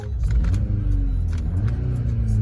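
A Volkswagen Golf 8 GTI Clubsport 2.0 TSI 300 hp engine revving up close, a throaty mid-range roar rising and falling in short bursts.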